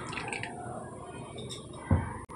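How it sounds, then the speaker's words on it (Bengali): Refined oil, about a cup, pours into eggless cake batter with powdered sugar: a faint, quiet liquid trickle and drip, ending with a soft splat-like thud near the end. "দিয়ে দেবো এখানে 1 কাপ তেল, রিফাইন তেলটাই ইউজ করতে হবে"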